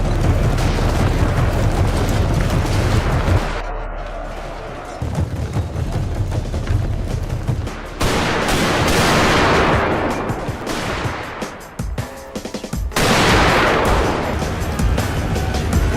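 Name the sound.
Gatling guns and rifle gunfire in Total War video game battle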